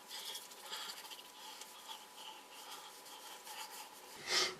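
Grease worked into hair by hand for a pompadour, a soft, close rubbing and squishing that rises and falls in uneven strokes, quiet and unaccompanied.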